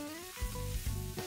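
Kimchi fried rice with a spoonful of sesame oil sizzles steadily in a hot frying pan, with a few louder scraping stirs as it is turned.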